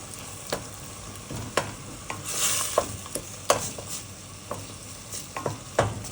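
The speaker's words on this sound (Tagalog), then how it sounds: "Yung tomato paste kailangan natin din igisa" Tomato paste sautéed and stirred in a pan for chicken kabsa, a spoon scraping in irregular clacking strokes over a soft steady sizzle, close and alone with no voices.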